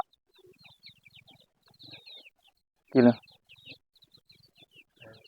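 Small chickens about forty days old chirp in thin, high peeps scattered across the clip, with one louder, fuller bird call bursting out midway.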